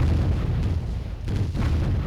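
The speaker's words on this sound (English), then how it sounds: "But for now, we want to destroy the command center." A command center is destroyed in the Warzone 2100 strategy game, a loud, dense rumble of explosions and cannon fire rolling continuously for about two seconds.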